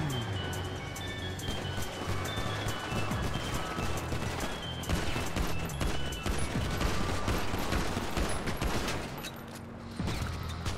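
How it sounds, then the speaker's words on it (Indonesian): Dense, continuous gunfire in GTA V roleplay aimed at a player, with rapid shots crackling over a busy, loud game soundscape for about ten seconds and no clear pauses. "Wih, ada yang nembakin aku, bro."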